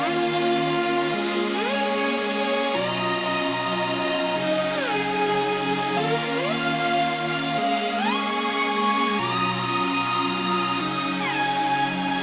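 A programmed beat melody plays continuously, its notes shimmering with tremolo and sweeping between left and right channels, synth tones gliding up and down over a steady bass line with no voices.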